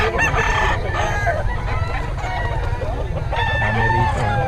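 Several roosters crow one after another, loud and nearby, with clucking and faint voices in the background.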